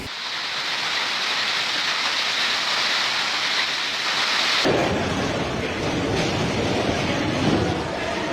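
Heavy rain pours down steadily amid flash flooding in Mexico, with streets turned into waterways, a dense, continuous roar of water that deepens and grows rougher partway through.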